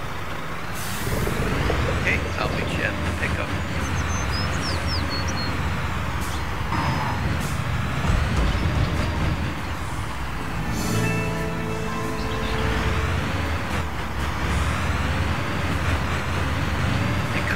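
A truck engine rumbles steadily in the Construction Simulator video game, with the hiss of air brakes and a brief run of beeps partway through; a voice speaks briefly over it.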